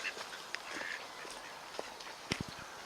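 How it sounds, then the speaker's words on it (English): Ducks near a flooded marshy lake with tall reeds give a few faint, scattered quacks, including a short cluster near the end, over soft outdoor ambience with no talking. "Go away, ducks."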